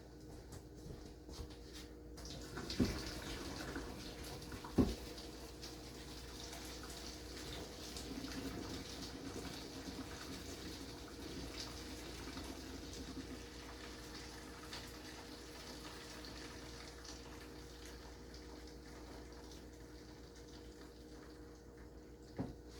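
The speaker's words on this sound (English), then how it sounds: "We're going to go drain these noodles." Cooked pasta noodles poured into a strainer in a home kitchen, a sustained watery gush and splash with a couple of sharp metallic knocks early on, moderately close and unbroken by speech.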